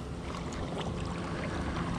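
A boat on the Danube throws up waves, making a steady, loud rushing wash of water mixed with wind, continuous throughout with no voices.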